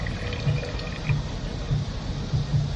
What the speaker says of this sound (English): I let the water drain out of these guys